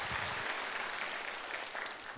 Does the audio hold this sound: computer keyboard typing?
no